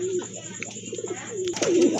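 Fancy pigeons, including a Satinette one-side-marking pair, coo in low repeated phrases close by, with a louder throaty coo near the end, while someone talks over them.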